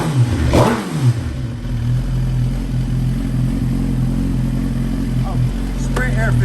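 A Ducati V4 S motorcycle engine idles with a low rumble, then revs sharply up and down a few times; voices talk briefly over it near the end.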